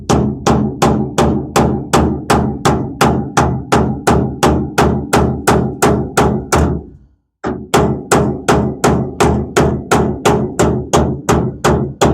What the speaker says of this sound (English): Get the hammer, kind of tap on a little bit.